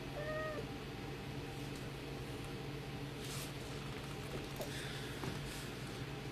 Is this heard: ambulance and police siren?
no